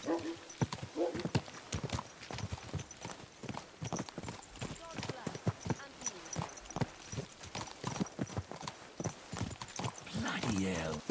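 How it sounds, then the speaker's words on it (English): Horse hooves clip-clop at a steady walking rhythm in the medieval video game Kingdom Come: Deliverance 2, close and clear, with a horse whinnying and voices talking over the hoofbeats. "Watch out for that horse."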